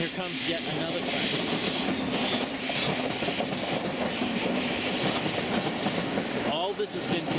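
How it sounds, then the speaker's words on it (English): A train rolls past in Basel, Switzerland, with a continuous loud rumble, rhythmic clickety-clack of wheels on the rails and a hiss of steam. "Here comes yet another train."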